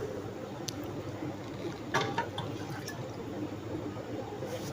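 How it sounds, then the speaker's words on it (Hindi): Water is poured into a pressure cooker with mutton and spices for kaddu gosht, a soft splashing trickle with a few sharper drips and clinks, fairly quiet over faint room background. "3 गिलास इसमें पानी डाल देंगे।"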